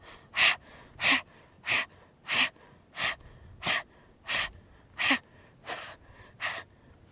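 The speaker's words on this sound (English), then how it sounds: "come to that pumping of fire breath" Breath of fire yoga breathing: nine or ten sharp, forceful pumped breaths in a steady rhythm about once every two thirds of a second, close and clear with quiet gaps between them.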